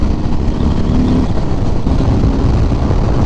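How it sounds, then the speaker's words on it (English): A 2018 Harley-Davidson Sport Glide cruiser engine rumbles loudly and steadily on a test ride, a continuous dense drone with no break. "The sound on this engine is really similar to me to the Street Bob"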